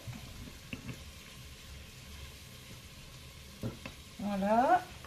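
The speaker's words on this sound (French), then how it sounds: "quand ça commence à dorer, je retourne les morceaux de viande." Pork kidney pieces fry in a Cookeo while being turned, a low steady sizzle broken by a few scraping stirs and a louder crackling surge near the end, close up.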